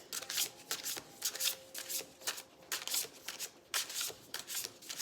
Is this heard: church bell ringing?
no